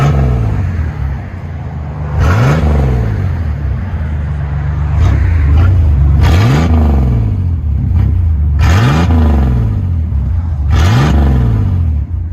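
A 1990 GMC S15 pickup with a 4.3L V6 and Flowmaster exhaust idles with a deep burble, then revs in four sharp blips that rise and fall back, loud and close.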